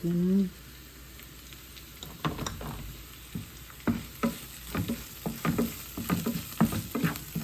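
Mustard, fennel and cumin seeds crackling in hot oil, a brief voice at the start followed by a run of sharp, irregular pops over a low sizzle, growing busier toward the end.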